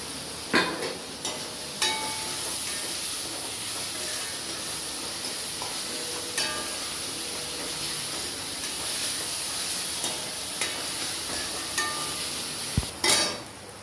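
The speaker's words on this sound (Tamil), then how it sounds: "இதே இந்த எண்ணெயில் நல்லா வதங்கணும்" Onions sautéing in oil with salt, a soft continuous hiss and sizzle punctuated by scattered clinks of a stirring spoon against the pan.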